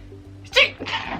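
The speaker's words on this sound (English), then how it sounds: "Oh god, I had to sneeze." One sharp sneeze, close and sudden, over a faint low hum.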